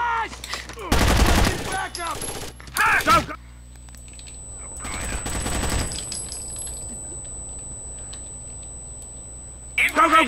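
Bursts of automatic gunfire in the Rainbow Six Vegas shooter, loud and close, in two long volleys with a shorter burst between, then a quieter stretch and a final short burst at the end, alongside game voices shouting.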